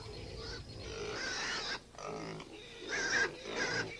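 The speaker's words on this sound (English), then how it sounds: "I used to think that pigs were still raised like this, outdoors, in a pleasant barnyard" Pigs grunting in an outdoor barnyard, a steady run of low, close grunts and snorts continuing for several seconds with a few louder bursts near the end.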